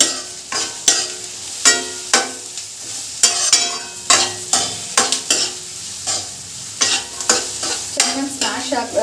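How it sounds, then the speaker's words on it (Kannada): Tomatoes fry and sizzle in a pan for a home-style chicken gravy, with a spoon scraping and stirring in a steady rhythm of close, loud strokes over continuous sizzling, no voices. "ಟೊಮೆಟೊ ನೀಟಾಗಿ ಸ್ಮ್ಯಾಶ್ ಆಗೋ ಥರ ಇದನ್ನ ಮತ್ತೆ ಡ್ರೈ ಮಾಡಿ ಸ್ವಲ್ಪ ಫ್ಲೇಮ್ನ ಜಾಸ್ತಿ ಮಾಡ್ಕೋಬೋದು."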